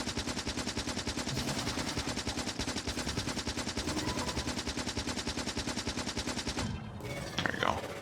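Rapid pistol fire at a biter spawner in Factorio, a long unbroken run of evenly spaced shots, loud and close, continuing for most of the stretch before cutting off into a brief quieter tail.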